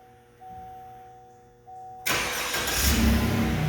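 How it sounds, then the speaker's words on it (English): A 2020 GMC Savana van's engine starting by remote start: quiet electronic tones and a faint click, then the engine abruptly cranks and catches, settling into a loud, steady idle close by. "Now we're gonna start the vehicle."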